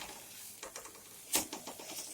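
A spoon scrapes and taps against a kadai while elephant-ear taro (mankochu) fries and turns sticky and lumpy, giving quiet intermittent stirring clicks with one sharper scrape, close and faint with no voices.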